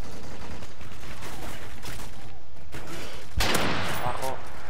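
Gunfire in Modern Warfare 3, with rapid shots crackling in dense bursts and one sharp, louder report standing out near the end, over a steady noisy game background.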